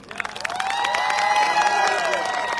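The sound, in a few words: audience clapping and cheering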